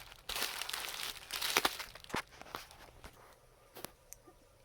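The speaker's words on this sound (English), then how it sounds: "Okay, so here's the bubble wrap." Bubble wrap is wound around a package being prepared for shipping, giving a run of close crinkling and rustling plastic handling sounds with a few sharper crackles, loudest early on and thinning toward the end.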